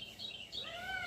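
Small birds chirp and twitter from a television playing bird sounds in a room where two cats watch, a few rising whistled calls heard faintly at moderate distance.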